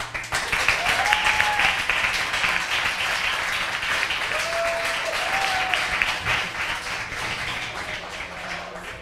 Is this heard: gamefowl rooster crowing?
no